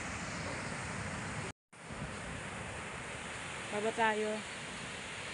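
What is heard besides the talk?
ocean waves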